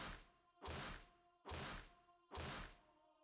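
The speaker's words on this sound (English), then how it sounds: "A noise of something metal striking something else is getting close" Four heavy metallic bangs of metal striking metal, evenly spaced under a second apart, loud and resonant with ringing tails, in a Higurashi visual novel scene with no talk.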